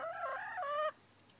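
Hen in a backyard chicken coop giving a single drawn-out, wavering call that ends in a short cluck, fairly faint with no voices.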